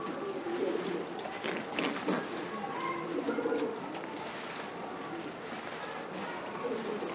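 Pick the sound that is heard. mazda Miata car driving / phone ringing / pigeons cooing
pigeons cooing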